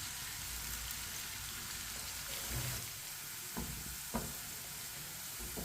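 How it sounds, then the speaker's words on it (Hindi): Sliced onions fry in hot oil for a mash daal tadka, a steady soft sizzle close by, with a few sharp clinks and scrapes as a spoon stirs them around the pan. "प्याज को ना इसी तरह चम्मच चलाते हुए हल्का सा ब्राउन कर लेंगे।"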